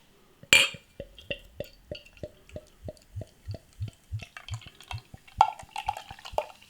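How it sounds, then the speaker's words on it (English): Nepomucen Wit IPA, a Polish craft beer, is poured from a bottle into a glass close up, giving a quiet, regular series of glugs and small clinks that loosen into fizzing toward the end. "Let's get the beer out into a glass and see what we get."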